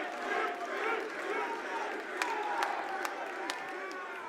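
An esports crowd at the Six Invitational finals roars and claps, a loud continuous wash of cheering with sharper individual claps near the end, while a commentator talks over it.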